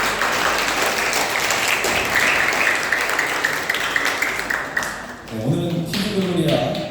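Applause in a church service welcoming visitors, a dense, steady clatter of many hands lasting several seconds, with voices and a low murmur of talk emerging near the end.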